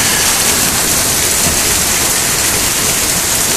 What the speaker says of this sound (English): Rain we need, although it's raining too hard.